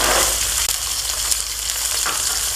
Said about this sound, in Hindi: 1 प्याली मटर है। और अच्छी तरीके से उनको हम फ्राई कर देंगे।